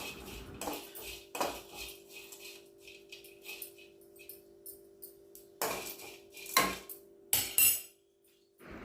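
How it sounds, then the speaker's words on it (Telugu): A spoon stirs dried shrimp roasting in a heated metal pot, giving repeated close metallic scrapes and clinks in irregular bursts with quieter pauses between. "ఎండు రొయ్యలు మాడకుండా కలబెడతా ఉండాలి"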